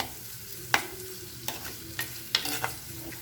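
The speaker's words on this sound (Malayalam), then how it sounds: "ഒരു 2 മിനിറ്റ് ഒന്ന് വഴറ്റി കൊടുക്കാം." Chopped small onions (shallots) sautéing in a pan, with a low steady sizzle broken by a few sharp stirring clacks of a spoon against the pan, close and fairly quiet, no voices.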